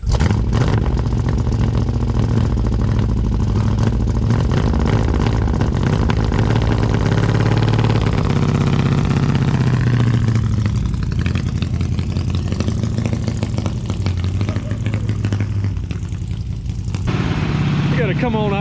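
A 1957 Ford Fairlane 500, back on the road after more than 30 years, settles into a loud, steady idle that rumbles up close, with voices talking over it.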